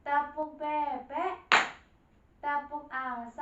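A single sharp clap from a group of children during an Indonesian classroom clapping game, sandwiched between stretches of sung or chanted children's voices.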